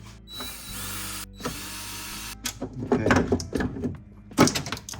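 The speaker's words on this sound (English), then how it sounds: "We're gonna remove these bolts. Same 10 millimeter. So those are loosened." A ratchet on 10 mm bolts under a Tesla frunk gives a couple of sustained whirring turns, then clicks, clanks and rattles of loosened hardware and tools nearby.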